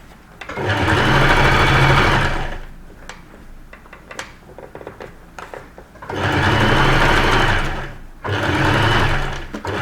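A sewing machine stitches a shirt sleeve seam around the armpit in two loud, fast, whirring bursts, with quiet pauses and small mechanical clicks in between.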